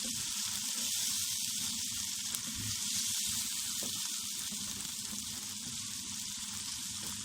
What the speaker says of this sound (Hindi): पहले हम प्याज फ्राई करेंगे।